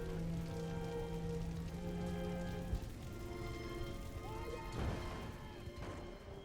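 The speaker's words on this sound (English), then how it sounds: "Just rain." Rain falls in a battle scene of the strategy game Empire: Total War, a continuous patter under steady musical tones, with a couple of louder thumps along the way.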